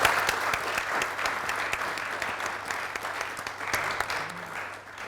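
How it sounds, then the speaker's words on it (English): An audience gives a sustained round of clapping: dense, even applause that holds steady and tapers slightly toward the end. "round of applause"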